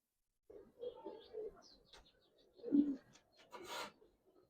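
Satchila-breed pigeons coo close by in a quiet room, several soft throaty murmurs in short bursts, one fuller coo in the middle, and light rustling between them.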